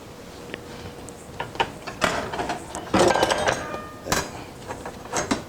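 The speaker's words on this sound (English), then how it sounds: "Whisk a little too strong." A whisk clinks and rattles against a pot while stirring chicken stew, with several bright metallic taps and scrapes in uneven bursts, close and moderately loud.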